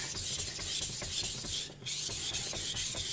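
Knife blade scraped back and forth on a Naniwa Gouken Kuroto #1000 whetstone in quick, steady rubbing strokes, faint and close with a brief pause.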